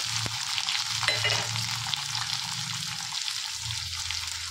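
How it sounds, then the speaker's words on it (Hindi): Three finely chopped medium onions hit hot oil with garlic for a raw banana curry, giving a steady crackling sizzle with a few clinks of stirring and a low hum beneath, close and moderately loud. "अब यहाँ पे मैंने तीन मीडियम साइज़ के प्याज को बारीक बारीक चॉप कर लिया है ऐड कर देते हैं"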